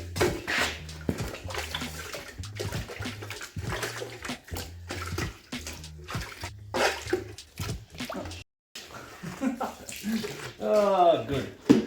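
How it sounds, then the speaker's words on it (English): Water siphoning out of a gold-prospecting container and spilling onto a shed floor, irregular splashing and dribbling with a brief pause, while people talk over it. "Apparently, that was full of water and put it on the floor, it siphons it out."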